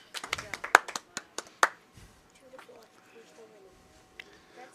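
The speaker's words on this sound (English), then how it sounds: "And there's applause. Applause in the warm room." Scattered applause breaks out in the warm room of a curling venue during a junior final, a few sharp claps near the start fading into sparse taps and low voices.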